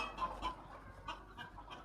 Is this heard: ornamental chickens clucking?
yes